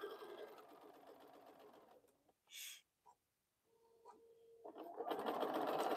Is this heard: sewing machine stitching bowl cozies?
yes